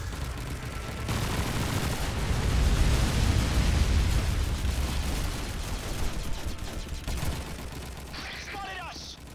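A grenade explodes in Call of Duty 2 multiplayer, a long, loud, rumbling blast that swells and slowly decays amid gunfire and battle noise, with a voice talking over it.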